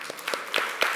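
A church congregation claps in celebration of a member's birthday, scattered hand claps building into brief applause heard at moderate distance in a worship service.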